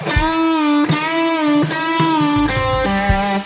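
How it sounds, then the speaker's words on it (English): Electric guitar through a light compressor and a distortion pedal, compressed overdriven tone, sustained notes struck in a steady rhythm, bright and close with thick harmonics. "I'm using a compressor and a distortion pedal."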